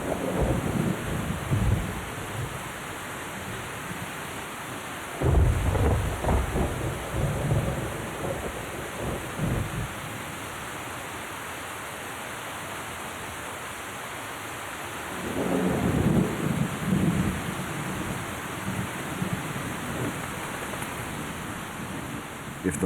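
Thunderstorm with heavy rain in the African bush, a steady downpour hissing throughout while deep thunder rumbles roll in twice, loud and close, with no voices.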